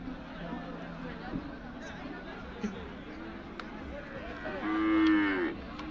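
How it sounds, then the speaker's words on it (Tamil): A native-breed calf at a cattle market gives a drawn-out moo near the end, heard over steady crowd chatter, earlier lowing and people talking nearby. "நாட்டு மாட்டு காலக்கண்ணு"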